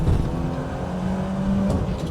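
A BMW 2002 Turbo pulls hard in third gear, its engine droning loud and close inside the cabin with a steady rising tone and a faint whine on top.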